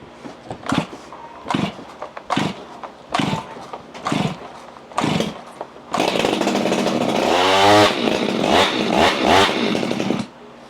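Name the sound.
ported Stihl 029 chainsaw firing up and running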